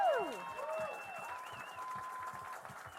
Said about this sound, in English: Not by doing a moment of silence, but by doing a moment of applause